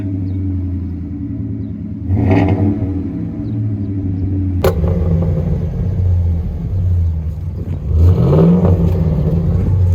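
A 5.0 liter truck engine fitted with a street flow exhaust idles with a deep rumble, punctuated by two sharp revs that rise and fall, heard up close.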